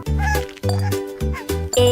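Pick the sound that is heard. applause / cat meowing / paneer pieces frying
cat meowing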